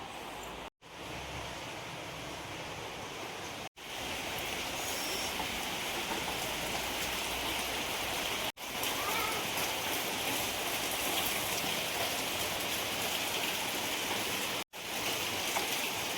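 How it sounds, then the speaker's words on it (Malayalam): Heavy rain pours steadily on a village home in Kerala, a dense, even hiss that runs the whole time with a few abrupt cuts to near silence, and no one speaks. "നല്ല മഴ പെയ്യുന്നുണ്ട് കേട്ടോ."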